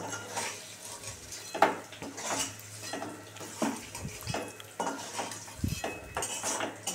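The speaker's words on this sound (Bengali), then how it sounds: "আমি খুন্তি দিয়েই তুলে ফেললাম।" A metal spatula scrapes and clinks against a pan while lifting fried paneer pieces, giving repeated close metallic taps and scrapes with a faint sizzle underneath and no talking.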